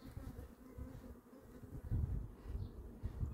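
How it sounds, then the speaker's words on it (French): Honey bees buzzing around a beehive, a faint, steady low drone of many insects close by, swelling slightly toward the end with no talk. "les abeilles. Il y en a forcément quelques-unes."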